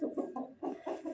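A chicken clucks in a short series of close, soft bursts with brief pauses between them, heard alone at low volume in a village setting.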